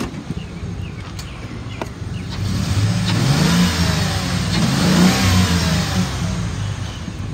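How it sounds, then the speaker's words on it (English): A 1997 Ford E-250 cargo van's engine idles, then revs up twice in smooth, close, loud swells before settling back, with a very slight misfire. "I'll rev it up so you can hear it."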